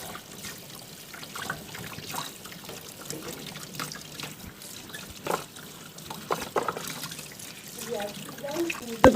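Whisks rinsed under a running tap in a pastry kitchen, a soft trickle of water with clinks and splashes, while speech carries on over it.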